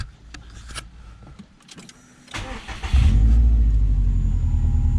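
Subaru WRX STI 2014+ cranking and firing up, then settling into a steady, close idle after a few clicks and rustles.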